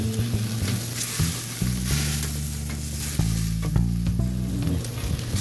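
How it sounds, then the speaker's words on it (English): Regular burgers searing in a hot pan outdoors, a loud close crackling sizzle with scraping and clatter from stirring or flipping, steady throughout without speech. "The burgers are just regular burgers. Perfectly seared."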